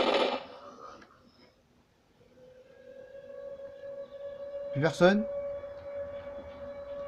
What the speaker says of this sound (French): Bon, la sirène nuque, ta gueule.